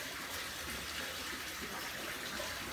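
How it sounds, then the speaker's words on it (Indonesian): Water rushes and splashes steadily as new koi are rinsed in a potassium permanganate bath, a continuous close, moderately loud wash of sound with no voices. "jadi koi harus dimandiin di cairan PK"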